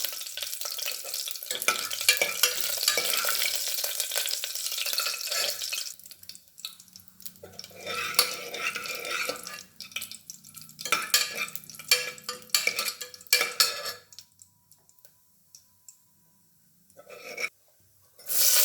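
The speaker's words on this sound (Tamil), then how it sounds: "கொஞ்சம் தேவையான எண்ணெய் ஊற்றி சோம்பு கிராம்பு பட்டை போட்டு வதக்கணும்" Fennel seeds, cloves and cinnamon sauté in hot oil for cauliflower kuruma, a loud close crackling sizzle that fades, then spoon stirring and scraping against the pan in uneven bursts.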